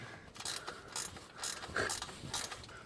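A ratchet clicks in quick bursts while tightening an exhaust fitting on a Ford Fiesta Mk7 during a KMS exhaust install, the metallic ticks close and fairly soft with short pauses between strokes.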